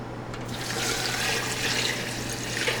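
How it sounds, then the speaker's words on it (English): Water is poured into a cooking pot while making pork carnitas, a continuous rushing splash that starts after a brief pause and holds steady, with no talking. "I'm gonna put water in here. And it's gonna take a whole lot of water."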